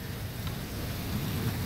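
Heavy nighttime rain pours down in Karachi during a thunderstorm with lightning, a steady dense hiss with low rumbling underneath, continuous and close throughout.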